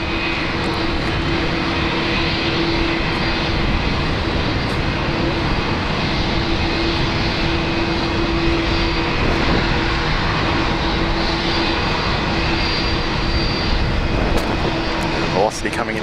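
Airbus A330 jet engines idle at Brisbane Airport, a steady broadband roar with a constant whine held for the whole stretch, loud and unbroken.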